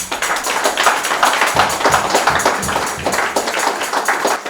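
Church congregation clapping and cheering for the women, a dense, loud, sustained burst of applause with no speech over it.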